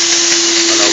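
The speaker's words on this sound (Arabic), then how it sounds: "المكنسة الزرقاء اللي هي بتساعد على رش الشامبو وضخ البخار" A steam carpet cleaning machine with a blue vacuum unit that sprays shampoo and pumps steam runs loudly and steadily at close range, a constant roaring whine with a firm motor hum underneath.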